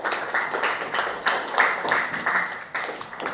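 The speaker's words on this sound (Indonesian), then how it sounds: "Tepuk tangan untuk kita semuanya." A school class claps together in a short burst of applause, several quick rhythmic rounds of hand claps filling the room before fading.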